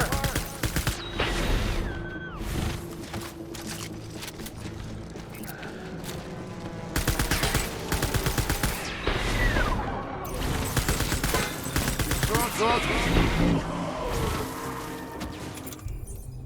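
Sustained gunfire in the Death Stranding video game, with rapid bursts and heavy impacts layered over mechanical clanks and crashing debris, loud and near throughout with scarcely a pause.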